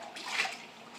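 Hot, clean water in a dishwashing basin gives a short, soft slosh and splash that swells briefly in the middle, quiet and close.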